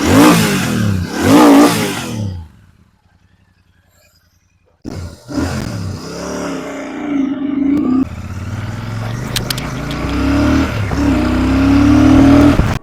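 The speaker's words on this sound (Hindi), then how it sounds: "तो अब एक बार हम बात इसके एग्जॉस्ट नोट की भी कर लेते हैं कि हाउ दिस साउंड्स।" Royal Enfield Super Meteor 650 twin revved in a few loud bursts, a deep rumbling exhaust note that surges and falls, with a brief quiet gap before the engine picks up again close by.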